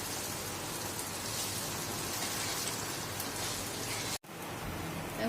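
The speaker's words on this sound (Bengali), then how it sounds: "কষানো হচ্ছে" Rice with salt being sautéed in a pan for ilish polao, a dense, steady hissing sizzle like light rain, close and continuous with a brief dropout near the end.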